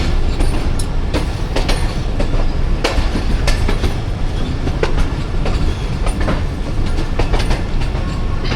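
The 13 UP Awam Express, a Pakistani passenger train on the Rawalpindi to Attock run, rolls along up close with loud continuous rumble and a rapid, irregular clickety-clack of wheels over rail joints.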